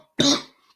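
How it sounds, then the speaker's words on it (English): A single sharp, loud cough from a nearby man, short and harsh, trailing off quickly into silence. "Man, I'm coughing again."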